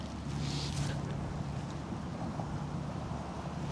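Strong headwind blowing across an outdoor disc golf course, a steady loud rush of wind buffeting the microphone for the whole stretch with no clear gaps.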